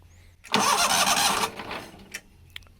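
Engine of a neglected 1998 Yazoo YTKC22 three-wheel mower cranks and catches with a loud, rough roar for about a second, then sputters and dies into quiet, with a few faint clicks afterward.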